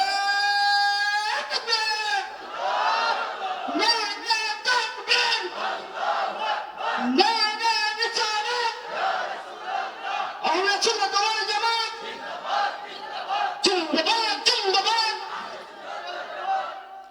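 A large crowd at an Islamic religious gathering shouts loud chanted responses in repeated bursts, voices swelling together in unison, with stretches of mingled calling between the waves.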